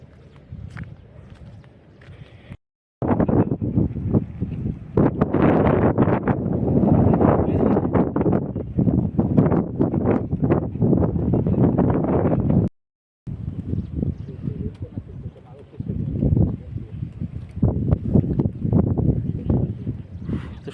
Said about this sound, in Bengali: দারুণ সুন্দর হাওয়া